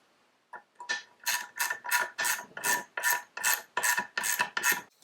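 A hand ratchet tightens bolts on an aluminum winch housing during a restoration of an old Hickey Sidewinder winch, giving about a dozen quick, close ratcheting rasps in an even back-and-forth rhythm.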